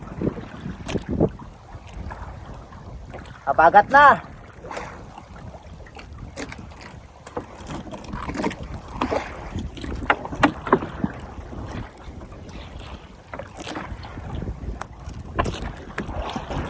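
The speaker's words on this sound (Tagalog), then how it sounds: "Malakas na yung hangin guys dito sa laot." Strong wind buffets the microphone out on rough open sea from a fishing boat, with the boat's rumble and splashing underneath and a brief spoken phrase near the start.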